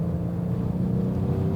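A 2020 Genesis G70 3.3T AWD with twin-turbo V6 accelerating from a roll in fourth gear: a steady, low, droning engine hum heard from inside the cabin, with no talking.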